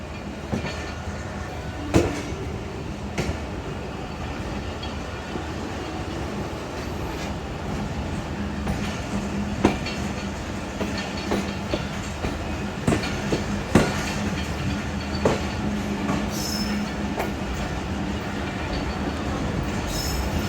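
Shalimar Express train rolling steadily through Kotri Junction, a continuous rumble of wagons with repeated wheel clicks and occasional metallic squeals, no voices.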